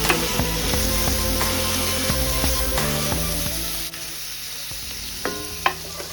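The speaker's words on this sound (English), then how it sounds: "Now I'm adding in my andouille sausage and we're going to cook that through." Andouille sausage cooking in a skillet, giving a dense, continuous sizzle and spitting that stays close and loud throughout, with a few light scrapes and clicks of a utensil near the end.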